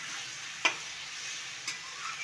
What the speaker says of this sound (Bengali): এইবার এটা কষতে থাকবে।